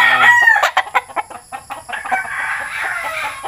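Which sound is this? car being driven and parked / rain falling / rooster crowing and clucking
rooster crowing and clucking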